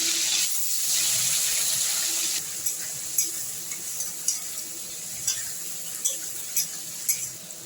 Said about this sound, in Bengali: আমি এবার চিংড়ি মাছগুলো একটু ভেজে নেব